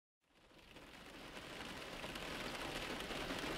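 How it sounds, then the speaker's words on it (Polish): Steady rain falling on a surface, a dense, even patter that swells in from silence and holds at a moderate, continuous level with no voices. "A bo tu zawsze pada i pada"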